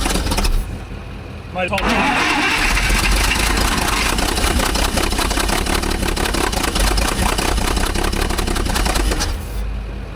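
An Allis Chalmers forklift engine cranks and catches on propane, then runs at a loud, rough, steady idle for several seconds before cutting back. Someone speaks briefly as it starts.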